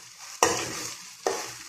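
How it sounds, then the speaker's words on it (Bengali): A mashed vegetable bharta frying in a pan, a low continuous sizzle punctuated by two sharp scraping strokes of a spatula stirring the mash, close up and with no talking. "যত শুকনো শুকনো হবে তত ভালো করে ভেজে নেবেন, টেস্টটা বেড়ে যাবে।"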